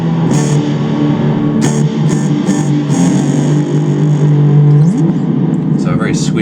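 A guitar played through the plate reverb of a Nux MFX10 multi-effects pedal rings out with sustained, swishy notes and long smooth tails, plus a held tone that bends upward, all loud and steady.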